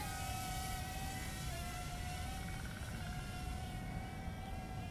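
A Holyton HT25 mini drone hovers outdoors in a breeze in a front yard, giving off a steady, close, high-pitched propeller whine with wind rush beneath it and no talking.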